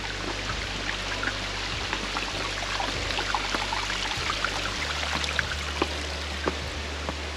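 Stream water rushing steadily over boulders at a rocky trail crossing in Pacific Northwest forest, a continuous broadband wash with small splashy transients, close and loud with no talking.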